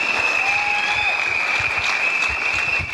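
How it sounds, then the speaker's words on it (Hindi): Sustained, even applause from an audience at an evening stage event, with a steady high tone ringing over the clapping throughout. "जोरदार तालियां दीजिए"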